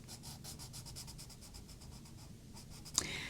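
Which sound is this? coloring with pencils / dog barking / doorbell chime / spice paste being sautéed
coloring with pencils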